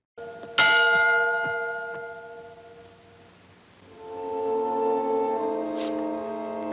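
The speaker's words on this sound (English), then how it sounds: "I think someone's ringing that bell manually." A large bell rings with a bright, resonant strike that slowly fades, then sounds again a few seconds later with a fuller, sustained hum.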